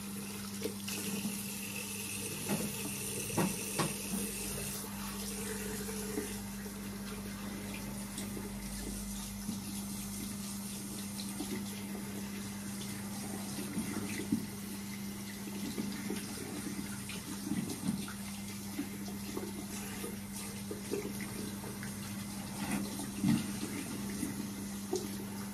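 Steady running water from a bathroom tap while someone rinses their face, a continuous close hiss with a constant low hum underneath and occasional small splashes, no talking.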